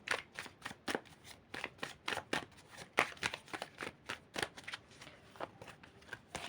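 Continuous riffling and slapping of playing cards being shuffled close up, a quick uneven rhythm of crisp bursts with no talking.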